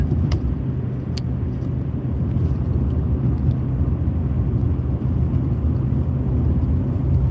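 A car driving a curvy road through the Ozarks, a loud, steady low engine and tire rumble that holds throughout with no letup.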